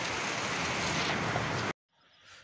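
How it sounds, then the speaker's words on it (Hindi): Light drizzle on a terrace garden after heavy rain, a soft continuous hiss of fine drops that cuts out abruptly near the end, then returns faintly. "दोस्तों अभी भी बारिश हो रही है, लेकिन अब छींटे आ रहे हैं।"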